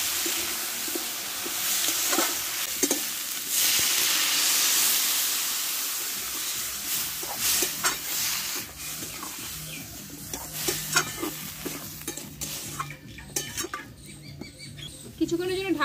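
Mustard seeds frying in a pan for a vegetarian Bengali Katwa-style data chorchori, a bright steady sizzle that gives way to stirring clatter, hiss and intermittent crackles.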